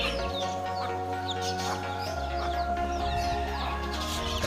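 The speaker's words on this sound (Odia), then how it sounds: "ତା ଛୁଆ ଏଇଟା ହେଉଛି ସେ କୁକୁଡ଼ାଟା।" A chicken clucking nearby in a yard shared with pigeons, its short calls repeating over a steady low hum, with faint chirps from other birds in the background.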